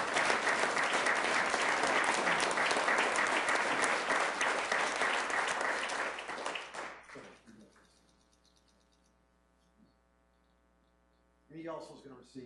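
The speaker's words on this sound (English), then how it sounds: "Let's give him a round of applause, please." Loud, dense applause from a city council meeting audience in Sioux Falls, steady for about six seconds before fading out, leaving a quiet room hum and a brief rustle near the end.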